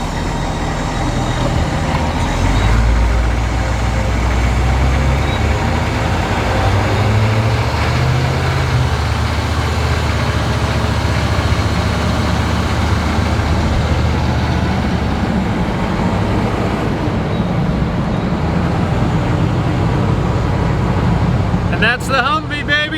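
A 1991 AM General M998 HMMWV Humvee drives along with its engine rumbling loud and steady, a heavy low drone throughout, with a voice talking over it at times.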